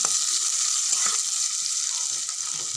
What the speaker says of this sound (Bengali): জিরে, দুটো লঙ্কা দিয়েছি। ডাল রান্না করবো, ওই জন্য ফোড়ন দিয়ে দেবো।